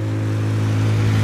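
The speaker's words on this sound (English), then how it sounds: "what the fuck is that noise? Holy Christ, is that a motorcycle?" Motorcycle engine revving loudly on a city street in Montreal's Côte-des-Neiges borough, a steady close mechanical roar without any talk.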